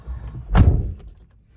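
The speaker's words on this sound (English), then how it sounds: "So let's shut this door." The door of a 2021 Toyota Hilux Double Cab 2.8 D4-D shuts with a single solid, close thunk, followed by a brief faint rattle as it settles.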